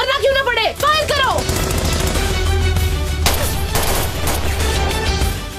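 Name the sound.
gunfire in TV drama shootout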